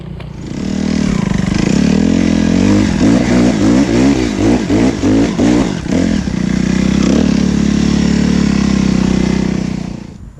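A Suzuki RM-Z 250 dirt bike engine roars loudly nearby, revving and labouring in pulsing bursts as it climbs a hill, then settling into a steady drone.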